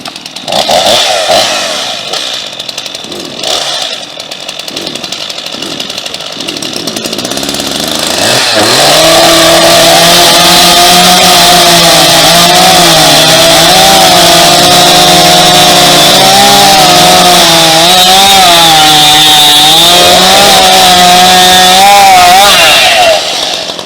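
Battery and gas chainsaws cut wood, one of them DeWalt: a quieter whirring buzz at first, then a loud, close two-stroke engine revving and bogging steadily through the cut for the rest of the stretch.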